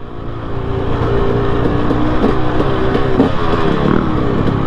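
2018 Husqvarna TX300 two-stroke dirt bike ridden at moderate revs, a buzzy engine drone with small throttle blips and a rough, rising note, fairly loud and near.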